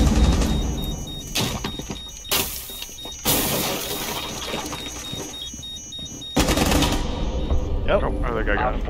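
Rifle fire in Rainbow Six Siege rips out in several sharp bursts and bangs, loud and close, separated by quieter stretches of in-game ambience.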